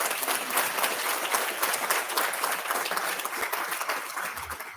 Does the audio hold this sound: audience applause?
yes